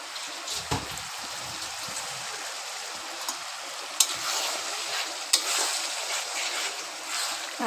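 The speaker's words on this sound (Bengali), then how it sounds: "এই যে এখন চিংড়িগুলো ছেড়ে দিল" Prawns cooking in a pan for chingri posto give a close, even sizzle, broken by a few sharp clicks and taps from stirring; nobody talks.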